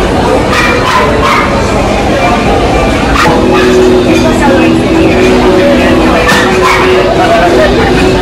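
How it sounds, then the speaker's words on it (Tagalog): Several dogs bark and yip loudly in a busy indoor basement food district on a Sunday, with sharp barks repeating over crowd chatter and general noise. "So many dogs are barking."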